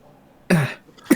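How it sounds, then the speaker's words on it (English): Two short, dry coughs sound close by in a quiet room, with a brief pause between them and the second one quicker and sharper. "You guys hear coughing or something?"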